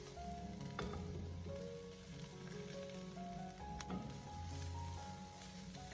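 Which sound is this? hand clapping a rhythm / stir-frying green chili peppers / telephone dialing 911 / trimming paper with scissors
stir-frying green chili peppers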